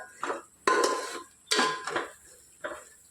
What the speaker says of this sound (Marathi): आणि जरासं हलवून घेते ही पेस्ट